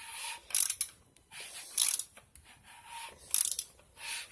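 A ratchet wrench hand-cranks a G22 VTEC engine on a build, giving three close bursts of rapid metallic clicking separated by short pauses, with no talking.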